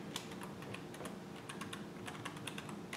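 Typing on a computer keyboard: quick, light, irregular key clicks close by, fairly faint, with no talking.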